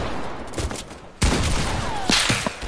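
Gunfire in a video game shooter, a loud burst of rapid shots followed by scattered single cracks and another sharp volley, close and dense throughout.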